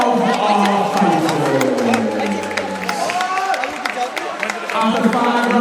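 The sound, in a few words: round of applause for the fighters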